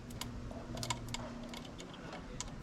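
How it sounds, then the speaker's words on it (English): Ignition points on a Classic Mini being worked by hand with the ignition on give off faint, quick ticking snaps in irregular bursts over a low workshop hum. "move the points by hand and I can hear them sparking"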